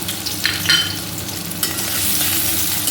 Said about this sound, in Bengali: কড়াই গরম হয়ে গেছে, কড়াইয়ের মধ্যে দিয়ে দেব পেঁয়াজ আর লঙ্কা কুচিটা